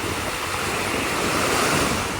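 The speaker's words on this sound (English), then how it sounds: "A few little waves this morning." Small sea waves wash onto a beach on Zakynthos, a steady broadband hiss of gentle surf mixed with some wind noise, continuous and fairly close with no voices.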